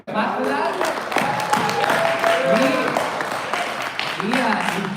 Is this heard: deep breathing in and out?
no